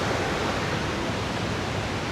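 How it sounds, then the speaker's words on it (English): A waterfall in Bali pours over its edge in a constant, dense roar of crashing water, close and broadband, with no pauses or voices across the short stretch. "that water's thundering over the edge"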